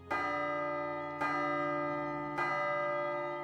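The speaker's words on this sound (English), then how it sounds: "The sound of the morning bell." A morning bell in the Piofiore visual novel tolls three times at even intervals, each strike ringing out long and full with a sustained hum between strokes.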